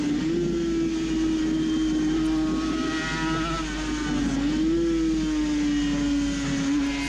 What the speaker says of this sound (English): So you have to get the RPMs back up by slipping the clutch.